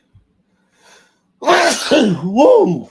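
A quick breath, then one loud, voiced sneeze right up close.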